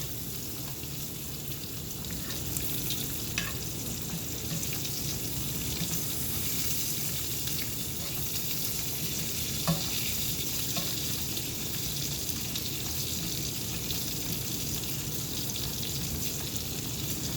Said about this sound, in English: So now I'm just gonna keep turning, keep flipping my bacon.